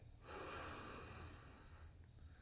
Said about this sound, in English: when you're breathing, you're taking those deep breaths